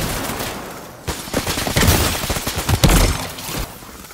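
Rapid, loud shots from a video game shotgun crackle in a dense cluster, with heavy blasts close together over a couple of seconds before tapering off.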